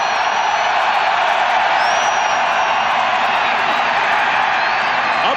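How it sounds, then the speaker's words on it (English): A large football stadium crowd roars after a touchdown, a dense, loud and sustained wash of cheering and whooping from thousands of fans. "This crowd fired up now."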